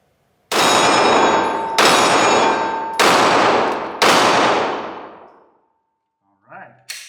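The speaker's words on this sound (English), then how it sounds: "Always enjoy shooting Glocks." Four loud shots from a Glock 19 9mm pistol ring out about a second apart, each leaving a long metallic ringing tail, and a short burst of speech follows at the end.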